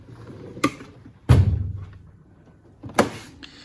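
A socket drawer in a heavily loaded mechanic's tool box slides on its runners, giving three sharp metallic bursts, one trailing into a longer rattling slide, close up with no talking.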